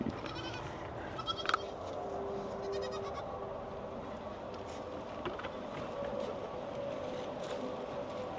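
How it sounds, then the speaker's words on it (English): A herd of eleven goats bleats near the listener in short, repeated calls that overlap irregularly over a low outdoor hum, with a few light knocks early on. "I all of a sudden had 11 goats following me."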